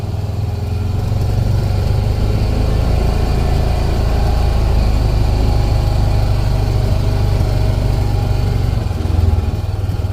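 A Honda Pioneer 700 UTV engine runs steadily and loudly up close, a continuous low drone with a mid-range mechanical rattle, holding near one pitch throughout with a brief dip near the end.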